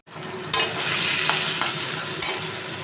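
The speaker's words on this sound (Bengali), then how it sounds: "কড়াইতে আমি যে সয়াবিনের পেস্টটা করেছিলাম ওটা দিয়ে দিচ্ছি, লবণ দিয়ে দিচ্ছি, একটু হলুদ দিয়ে দিচ্ছি, দিয়ে আমি এবার এটা কষিয়ে নেব" Soybean paste with salt and turmeric sizzles steadily in a hot wok, broken by several sharp scraping strokes of a stirring spoon, close and clear with no talk.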